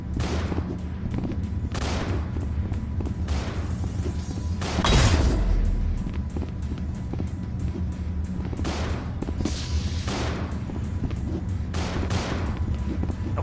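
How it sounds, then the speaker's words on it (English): Sniper rifle shots ring out in the VR game Rec Room, a series of sharp, loud cracks spaced a second or two apart, with one heavier booming shot in the middle over a steady game background. "you have a sniper rifle and it's like you shoot"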